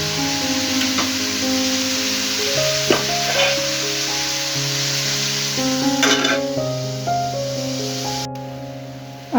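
Vegetable bhaji frying in a pan gives a steady, continuous sizzle that holds at an even level throughout, with soft tonal sounds in the background.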